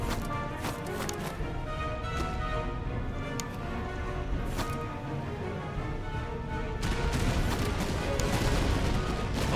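Archers shoot at cavalry in the Master of Command strategy game, a Prussia campaign battle, producing scattered crackling gunfire and volley-like pops over a steady battle din. The sound keeps up throughout and there is no speech.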